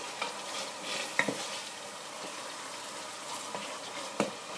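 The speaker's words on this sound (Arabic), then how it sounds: "نحرك طنجرتي ونقلب اللحم باش ياخو وجه" Beef being stirred and turned in a pot to brown for a lentil stew, a low steady frying hiss broken by a few sharp scrapes and clinks of the spoon against the pot.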